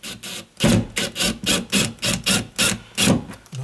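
A screw is turned by hand into a plastic drywall anchor in a wall: about eight close, rhythmic rasping grinds, each a short scrape with a brief pause between, fairly loud and with no voices.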